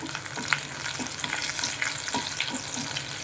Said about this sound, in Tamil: கொஞ்சமாக ஒரு ஈருக்கு கருவேப்பிலை போட்ட ஒரு 4 பல்லு பூண்டு நசுக்கி போட்டிருக்கிறேன்